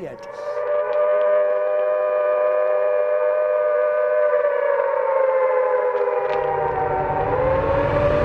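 Wartime air raid sirens wail in a long, sustained howl, several tones layered and holding steady, loud and close, with a low rumble rising underneath toward the end.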